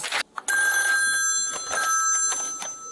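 An indoor telephone bell rings loudly and steadily, a bright continuous electronic trill that pauses briefly near the start and then carries on alone with no talking.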